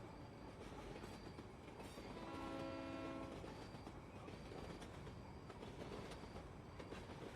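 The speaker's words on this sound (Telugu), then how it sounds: "ఆ ట్రైన్ వెళ్తుంది కదా, అది 12 గంటల లోకల్." A local train rolls past at a distance, a faint steady rumble of wheels on rails with a brief horn-like tone partway through, no voices present.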